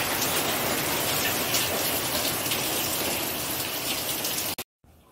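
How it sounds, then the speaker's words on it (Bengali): Heavy rain pouring steadily onto surfaces, a dense, loud, continuous hiss that fills the whole stretch before cutting off abruptly at the end. "দেখো বৃষ্টি হচ্ছে।"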